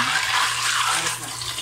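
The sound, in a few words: water being thrown out while cleaning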